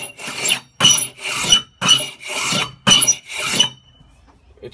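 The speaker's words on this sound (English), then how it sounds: "It's scraping it really nice." Six rhythmic rasping strokes of a scraper shaving down a high point on a patch, each pass a loud, close, gritty scrape separated by brief pauses, with no talking.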